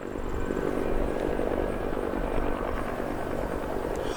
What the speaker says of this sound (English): It was awesome to be able to see those helicopters take off.